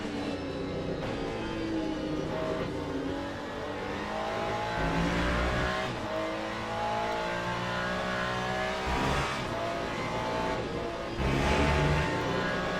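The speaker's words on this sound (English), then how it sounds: "the engine noise is really loud in my head" Loud onboard race car engine from the Le Mans Ultimate sim, droning steadily with rising and falling revs and gear changes throughout, close and continuous with no talk over it.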